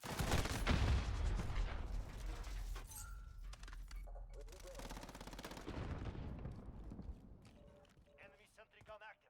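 An enemy sentry gun fires in a first-person shooter, loud rapid automatic bursts at the start easing into ongoing gunfire and effects, with game radio voices over the top.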